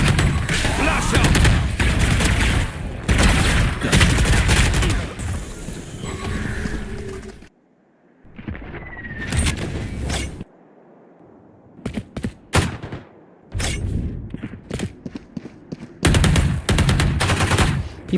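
Rapid bursts of gunfire from the Valorant shooter game, loud and close, with repeated volleys separated by short pauses and a quieter stretch midway.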